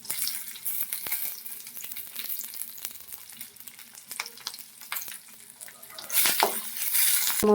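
Onion, garlic, ginger and tomato roast in a hot pan with a steady crackling sizzle and occasional stirring clatter, growing louder and hissier near the end, with no speech.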